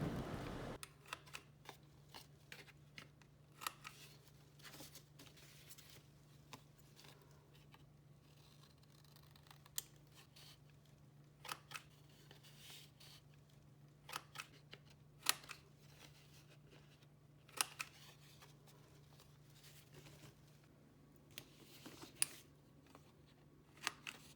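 A paper corner cutter rounds the corners of painted paper for handmade bookmarks, giving sharp, faint snips scattered irregularly across a quiet room with a steady low hum underneath and no talking.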